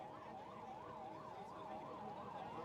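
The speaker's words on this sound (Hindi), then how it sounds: "जो एम्बुलेंस आ रही है सभी साथी इस बात का ध्यान दें कि एम्बुलेंस को" An ambulance siren wails in a steady rising-and-falling cycle, faint and distant, under crowd and traffic noise at a Congress party rally during a Rohtak Lok Sabha nomination.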